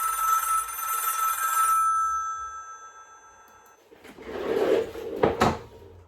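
A telephone rings with a bright, sustained bell tone for about two seconds and then falls silent, followed by a few clunking handling noises as the receiver is picked up.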